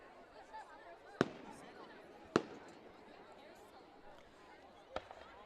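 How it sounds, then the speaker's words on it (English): Fireworks burst during a high school homecoming football game at a stadium, three sharp booms spaced apart and heard at a distance over a steady crowd murmur and speech. "They usually have a fireworks show here at Westside on their homecoming game, and it's happening"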